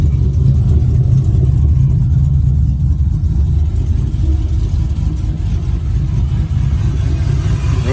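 Chevy Apache truck engine revving up and down close by, a loud, steady low rumble with throttle swells throughout, heard alone without any talking.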